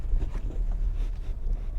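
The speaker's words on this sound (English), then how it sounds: "not a lot of engine noise gets into the cabin" Cabin noise inside a 2012 Nissan Sylphy while driving: a steady low road and engine rumble with muffled wind hiss, fairly quiet and continuous, no talking.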